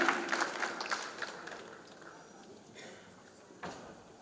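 Applause from an audience at a gospel concert, loud at first and gradually thinning out, with a brief burst near the end.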